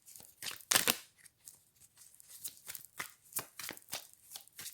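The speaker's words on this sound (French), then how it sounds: "on me dit qu'on prend une toute dernière carte" Tarot cards are shuffled and handled, a series of close, crisp papery riffles and slaps in irregular bursts, with no talk.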